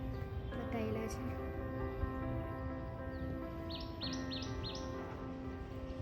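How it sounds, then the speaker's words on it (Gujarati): Birds chirping around an ashram on the Ganges bank in Rishikesh, with a run of short, bright repeated calls rising over a steady murmur of people talking nearby. "પક્ષીઓનો સરસ અવાજ આવે છે."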